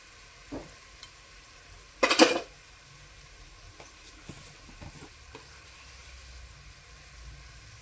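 Chicken masala being stirred in a pan with salt and spices, with a soft sizzle underneath and a few distinct scrapes and clinks of the spoon against the pan, one louder burst near the middle.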